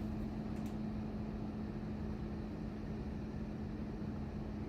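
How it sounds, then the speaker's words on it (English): Steady jet engine roar from a Boeing 777, a continuous broadband rumble with a constant tonal hum, holding level throughout without talk. "This one probably has a good engine sound"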